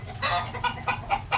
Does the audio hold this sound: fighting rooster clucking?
yes